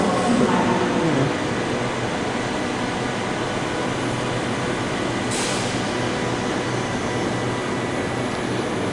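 A Perth city railway train, heard from on board as a steady, loud broadband rumble and hum of the running carriage that continues without a break.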